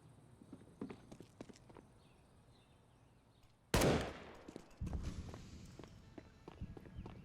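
A single sharp gunshot cracks out in Counter-Strike: Global Offensive during a professional NAVI versus Liquid match on Inferno, standing out over soft footsteps and quiet in-game ambience.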